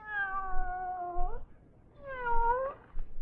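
A cat in an old-time radio drama meows twice, two long, clear, drawn-out cries separated by a short pause, close and fairly loud over a quiet background.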